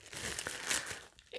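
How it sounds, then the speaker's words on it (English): Close crinkling and crumpling of saran wrap being peeled off a green beer bottle, a continuous soft rustle with faint tearing, quiet and without speech. "it's in saran wrap, and it's a green one, so I have to unwrap it"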